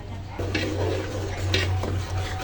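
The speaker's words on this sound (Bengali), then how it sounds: "ভাতটা দেওয়ার পর অনবরত নাড়তে হবে যেন নিচ থেকে লেগে না যায়" Rice simmering in milk for payesh is stirred in a pot, giving soft, brief scraping strokes against the base over a steady low hum, fairly close and without talking.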